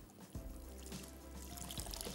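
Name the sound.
water poured into cooking lentils (dal)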